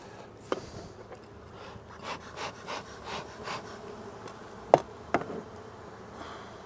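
Honey bees buzz around an open hive during a swarm transfer, a close, steady drone with passing individual bees swelling louder and fading, plus a few sharp clicks from handling the hive; no speech.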